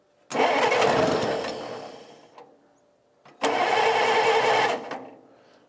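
A Farmall Cub tractor engine cranks over in two separate bursts, each a loud churning whir of the starter that runs a second or two and then dies away, with short clicks between attempts and no one talking.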